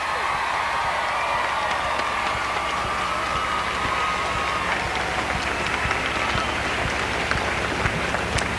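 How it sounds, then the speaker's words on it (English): A pageant crowd at the 1998 Miss Oklahoma pageant in the Mabee Center claps in a sustained, even roar of applause, dense and rain-like throughout, with faint voices underneath. "I want to hear a huge round of applause for those 30 going off stage right now"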